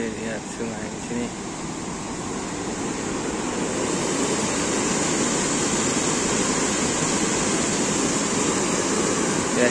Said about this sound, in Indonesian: ini kayaknya suara sungai